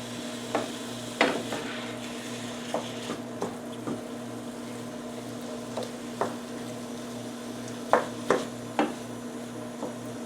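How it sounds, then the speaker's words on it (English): Turkey sausage cooking in a pan, a soft low sizzle under scattered clinks and scrapes of stirring, fairly quiet and close, with no voices. "I'm going to add a little garlic and continue cooking this until the sausage is cooked"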